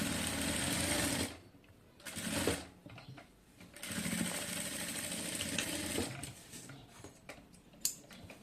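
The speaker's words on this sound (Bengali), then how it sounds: "এ পর্যন্ত হচ্ছে সেলাই করে এটাকে শেষ করব" A sewing machine stitches a salwar pocket, its close mechanical whir running in bursts with short pauses between them and fine ticking of the moving parts, at a fairly low level.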